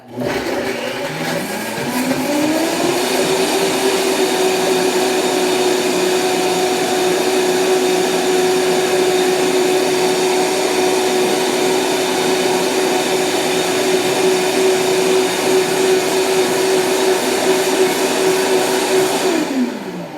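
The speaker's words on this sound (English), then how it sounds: "it's a super loud blender" A loud blender motor spins up while blending a carrot miso dressing, runs at a high steady whine for a long stretch, then winds down at the end.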